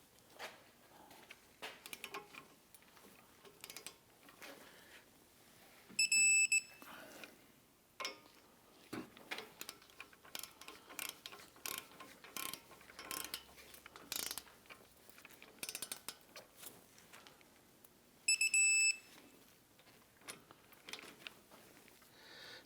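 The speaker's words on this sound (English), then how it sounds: "We want to go ahead and torque these down to 148 foot-pounds." Front brake bolts on a 2009-2017 Volvo XC60 are torqued to 148 foot-pounds: quiet ratcheting clicks and metallic handling, with two brief louder clicking bursts from the torque wrench well apart.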